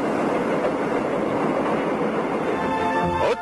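A subway train from 1980s Seoul or Busan rumbles steadily and loudly throughout, a dense continuous roar of wheels on track, with a faint high whine near the end as the noise briefly dips.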